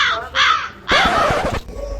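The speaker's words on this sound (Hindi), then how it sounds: "कहाँ काला कौआ?" A black crow caws in a series of harsh, raspy calls, two shorter cries followed by a longer, louder one, heard close and clear with no talking.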